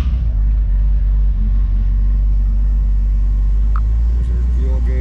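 A 1963 Ford Thunderbird Sports Roadster idling right after a cold start, its carbureted engine giving a loud, steady low rumble close by with slight fluctuations, while someone talks over it.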